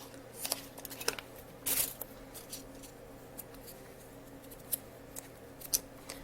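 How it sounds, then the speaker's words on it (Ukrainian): Scissors snip through a small square of olive-green foamiran craft foam for hair-pin rosebuds: a few sharp, quiet cuts in a hushed room, with one louder snip in the middle and no voices. "Відрізаємо квадратик невеличкий оливку фоамірану."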